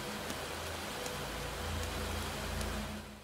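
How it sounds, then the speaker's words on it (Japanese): Heavy rain falls steadily in the visual novel game Kanna Meiro, a continuous dense hiss with faint drop ticks and a low rumble underneath, fading slightly at the end. "雨は容赦なく降り注ぐ"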